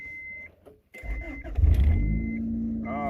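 A car engine cranks and catches after a short quiet gap, then settles into a steady low idle close by, with a high electronic tone and chime in the cabin.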